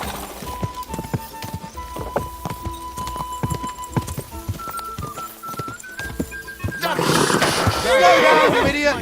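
A horse gallops in Kingdom Come: Deliverance II, its hoofbeats thudding in a quick steady rhythm under a sustained musical tone, then breaking into a loud, close whinny near the end.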